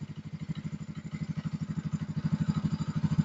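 A Yamaha Mio 125 scooter built to 174cc with a 59 mm bore kit runs steadily close by, its rapid, even engine pulses growing slightly louder toward the end.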